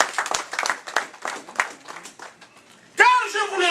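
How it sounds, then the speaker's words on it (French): A church congregation claps for the Lord, first a loose scattering of claps under a preacher's voice, then a louder burst of applause near the end. "Let us clap for the Lord."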